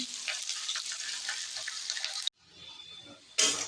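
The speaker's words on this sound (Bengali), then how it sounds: "ভালো করে ভেজে নেবো পেঁয়াজ রসুন" Chopped onion, garlic and green chilli frying in oil in a pan, a bright sizzle with stirring scrapes that suddenly drops away, stays quieter, then flares up loudly again at the end.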